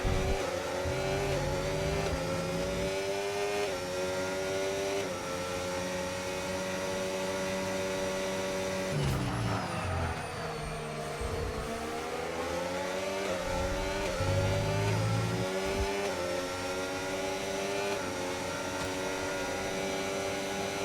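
F1 race cars scream around the Bahrain circuit in a racing video game, engines whining loudly with rising and falling pitch as they shift through gears, one car sweeping past midway.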